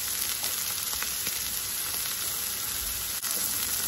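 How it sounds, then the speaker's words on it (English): Beef tips searing in a pan on a stovetop give a steady, dense sizzle that stays even and close throughout, with faint crackles and no voices. "I'm gonna let that like get a nice little sear"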